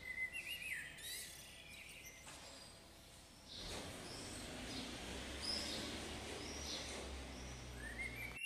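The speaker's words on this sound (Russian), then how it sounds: "слышу звуки утреннего Рима, пение птиц" Birds chirp and trill on a quiet early-morning street in Rome, light calls scattered near and far over a soft hum of city background and faint ambient noise.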